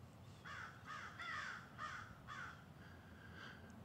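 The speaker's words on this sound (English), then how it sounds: "Birds are down here in this little bay." Birds give a series of about six harsh, crow-like caws from a small bay on Mayfield lake, moderately distant and steady in rhythm over a quiet outdoor background.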